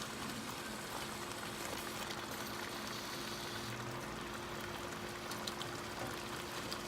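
Ofada stew with eggs cooks in a pot, giving off a soft, steady bubbling and hiss that stays quiet and unchanging throughout.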